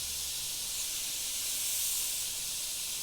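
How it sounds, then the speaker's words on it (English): An airbrush sprays paint thinned at a 1:1 ratio, giving a soft continuous hiss heard close up with no other sound. "you can notice straight away how much smoother the airbrush will run"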